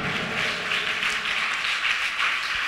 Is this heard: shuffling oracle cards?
no